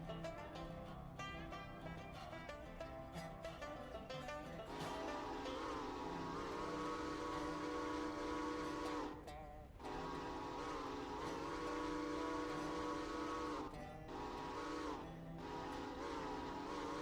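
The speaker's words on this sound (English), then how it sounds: "Love me a good crossing whistle." A locomotive in the modded Railroader train game sounds its crossing whistle: long, sustained steam-whistle blasts split by brief gaps, loud and steady over a low rumble of rolling stock.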